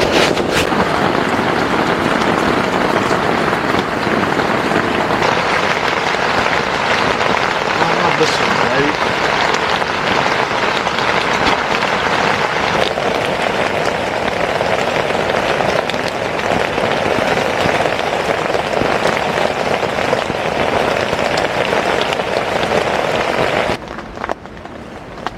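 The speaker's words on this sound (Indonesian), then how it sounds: "Sekarang sudah jam 5 sore, tapi hujan masih belum berhenti." Heavy rain falls without pause at a campsite in New Sekipan, Tawangmangu, a dense, loud hiss of drumming drops that stays constant before thinning abruptly near the end.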